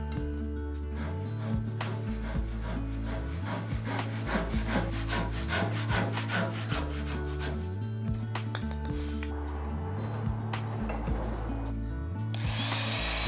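A handsaw cuts wooden columns for a handmade woodshed with steady, rhythmic back-and-forth strokes, loud and close, in repeated rasping bursts that speed up slightly toward the end. No one talks.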